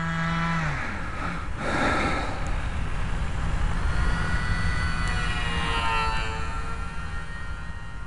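Micro T-28 Trojan model airplane buzzes close overhead with a continuous high-pitched electric whine that shifts in pitch as it passes, steady and fairly loud throughout.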